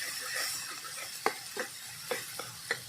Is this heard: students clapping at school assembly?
no